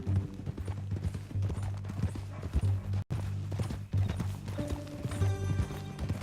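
Steady clip-clop of horse hooves from Red Dead Redemption 2, a close, rhythmic walking gait that continues through the whole stretch alongside a low musical drone and faint creaks.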